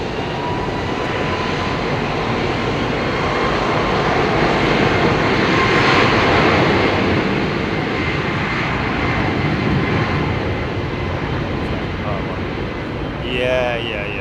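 An Etihad Airbus A380 jet at Heathrow Airport, a loud, sustained broadband engine roar that swells and slowly fades, with a voice speaking briefly near the end.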